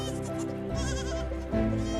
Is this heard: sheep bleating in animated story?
yes